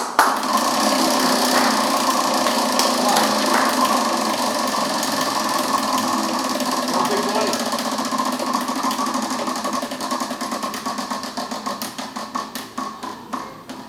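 A prize wheel spins, its pointer ticking steadily against the pegs. The clicks start dense and fast, then spread out and grow more distinct toward the end as the wheel slows.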